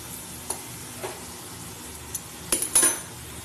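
Masala for chicken curry being stir-fried in oil in a pan, with a soft sizzle underneath and a few scattered spoon scrapes and clinks that bunch into a louder cluster of metallic knocks near the end.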